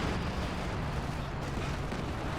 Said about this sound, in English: Yeah, that's the Sturmovik strafes.